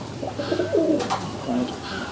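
A female Rajshahi Giribaz tumbler pigeon gives low, bubbling coos in two or three rolling phrases, close by over steady background noise, with a brief sharp click between them.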